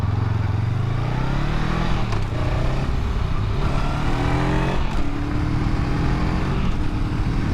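A Honda Rebel 500 motorcycle rides along at speed, its engine droning loud and close with rising and falling pitch as it shifts and pulls, under steady wind rush and no talk.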